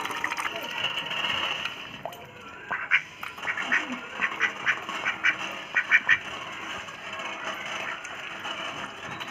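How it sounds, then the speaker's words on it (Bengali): Farmyard ducks quack in a burst of short, close calls while being fed, with a person talking over them and faint rustling in the background. "নিজের হাঁস মানসির হাঁস সব খাও"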